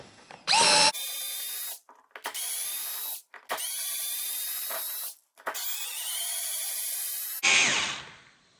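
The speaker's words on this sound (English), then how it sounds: "Now I'm just going to back them all out." A Parkside Rapidfire 2.2 cordless screwdriver backs screws out of wood in four long whirring bursts with short gaps, each run steady and close, plus a brief higher buzz at the start and a ratcheting tail at the end.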